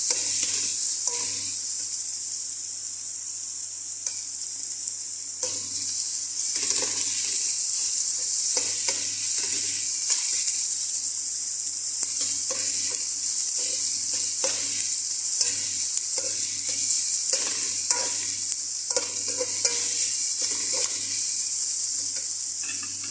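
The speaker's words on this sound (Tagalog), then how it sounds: "Labasan natin yung aroma ng bawang at medyo maluto-luto yung sibuyas natin." Garlic and onions sauté in a hot pan for shrimp with rice, a steady loud sizzle with frequent stirring scrapes and clacks of a utensil, close up and with no talking.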